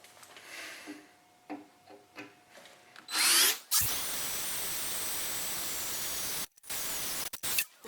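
A power drill bores holes during an Everclean install, starting with a few short bursts and then settling into a long, loud, continuous whine that cuts off briefly near the end and restarts.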